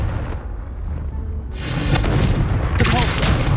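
Hogwarts Legacy video game Confringo spell blast: a quiet start, then a loud booming burst with crackling, fiery rumble that carries on to the end.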